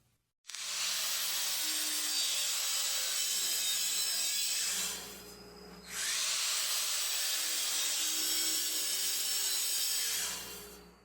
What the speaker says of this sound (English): we brought it over here to the miter saw. We're just going to trim off the ends, each one of the ends, and bring it down to 23 inches.